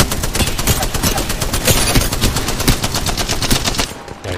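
Rapid automatic gunfire from a video game rattles in dense, loud bursts almost without pause, then cuts off near the end.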